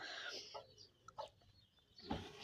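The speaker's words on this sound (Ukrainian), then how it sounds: "Так, це кури бійцівського шаму." A few short, scattered clucks from fighting-breed chickens, with light outdoor background noise and no talking.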